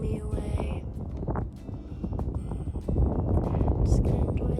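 Wind gusts over a lake while kayaking, roaring steadily against the microphone with a low rumble that swells toward the end, a faint voice underneath.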